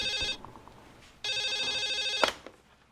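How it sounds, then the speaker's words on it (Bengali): A telephone rings in two electronic bursts, a pause between them, then a sharp click as the ring stops, heard alone and fairly quiet in an indoor drama scene. "আমার ফোন আসছে"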